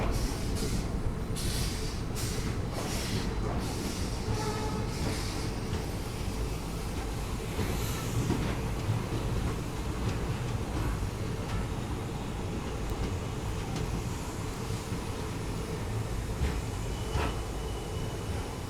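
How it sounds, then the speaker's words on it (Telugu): Vasco da Gama–Hyderabad Weekly Express pulling into Guntakal railway station, a steady rumble of wheels and carriages heard from inside the train, with a run of rhythmic rail clatters at the start and a faint background hum. "మనం అరవ్ అవుతున్నాం గుంటకల్ రైల్వే స్టేషన్లోకి"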